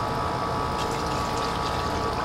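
Gasoline, about three-quarters of a cup, poured into a container during a lawn mower vaporizer valve build: a steady, continuous trickling wash of liquid with no pauses.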